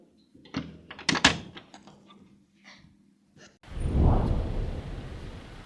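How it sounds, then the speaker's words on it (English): A door opening in an office, with a cluster of knocks, clicks and rattles, then a sustained rushing whoosh as it swings open, fairly close with no speech. "Then they opened the door"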